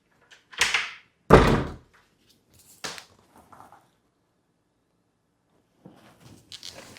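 A bedroom door in an old New England colonial cottage bumps and shuts with a few close, sharp thuds spread over several seconds, followed by faint shuffling and quiet rustling.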